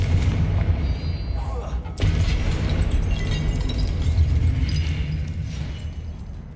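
Confringo explosive spell from Hogwarts Legacy lands as a sharp boom around the two-second mark, followed by a sustained rumbling blast under continuous low battle noise.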